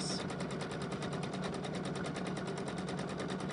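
A domestic sewing machine runs continuously during free-motion quilting, a rapid steady needle rattle heard close at an even level with no voices.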